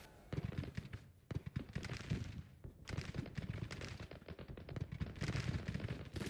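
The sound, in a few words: cannon fire in a video game battle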